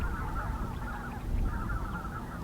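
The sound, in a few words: snow geese flock honking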